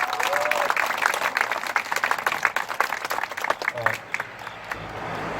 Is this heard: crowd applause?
yes